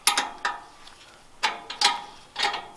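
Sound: removing the exhaust pipe from an MB Trac 800 tractor

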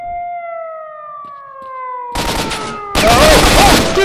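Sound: gunfire in video game S.T.A.L.K.E.R. Shadow of Chernobyl

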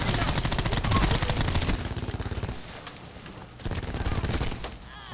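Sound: gunfire in Black Ops 4 video game

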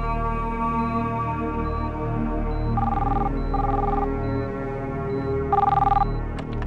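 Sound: telephone ringing

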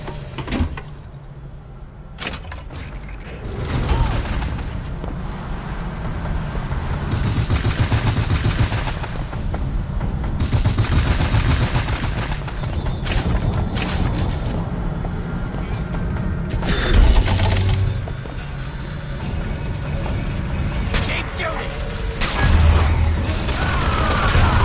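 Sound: gunfire in the video game Bioshock Infinite

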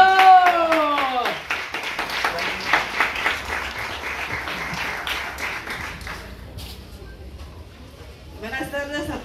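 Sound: guests applauding at a birthday party

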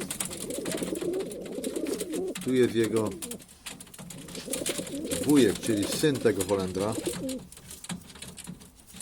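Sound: male pigeons cooing in a loft

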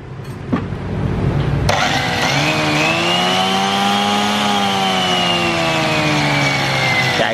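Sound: Japanese domestic handheld cutting saw running after plugging in

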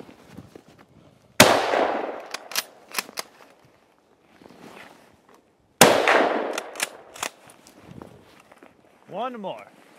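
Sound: Mosin Nagant 7.62x54R rifle gunshot

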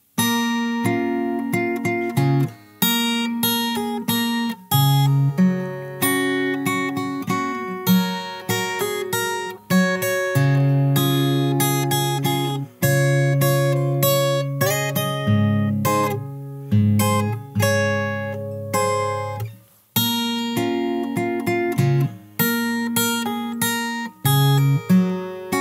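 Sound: fingerstyle guitar playing a song's chorus

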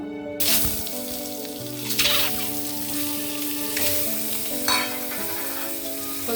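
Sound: eggs frying lightly in hot oil with turmeric

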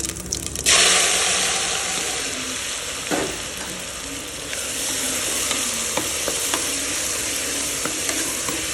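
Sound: cumin and crushed spice masala frying in hot oil

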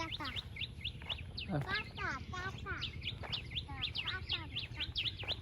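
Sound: birds chirping in a village

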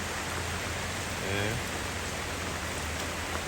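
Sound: heavy rain

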